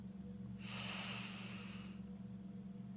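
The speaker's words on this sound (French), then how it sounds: "Inspirez profondément." A slow, deep inhalation during a guided mindfulness relaxation session, audible as a soft breath lasting about a second and a half over a steady low hum, with no talking.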